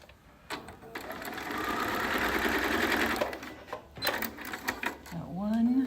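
A sewing machine stitching a half-inch seam on a minky quilt, running in a steady whirring burst, then stopping and starting in shorter runs, with someone talking over the later part.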